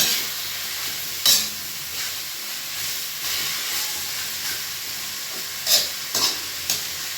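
Tofu and sponge gourd sauté in a pan, a steady loud sizzle with occasional sharp bursts as the food is stirred and tossed, no talking.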